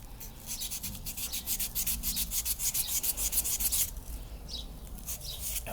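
Hand sanding a surface in rapid back-and-forth strokes, a rhythmic scratchy rasp that pauses briefly and then resumes, close and fairly loud, with no speech.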